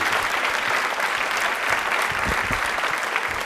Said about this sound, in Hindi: तालियां तो जोरों से बजनी चाहिए